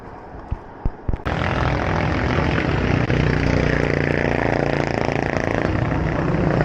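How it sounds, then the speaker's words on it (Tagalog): Tricycle engine labouring up a steep road of about 10–12 percent, a loud, harsh drone that starts after a few sharp knocks and then holds steady and close for several seconds. "Naririnig nyo yung ingay ng tricycle?"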